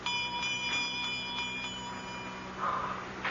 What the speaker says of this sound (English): I'm trying to see where that bell came from.